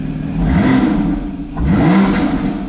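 Porsche 981 Cayman S engine with a modified sports exhaust bypassing the rear silencer, warmed up and blipped twice, two quick loud revs rising and falling close by.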